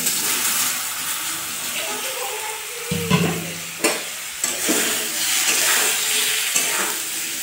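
Jackfruit pieces frying in mustard oil with salt and turmeric in a wok, a steady loud sizzle with occasional stirring scrapes and clatters of the spatula, continuous throughout, no speech.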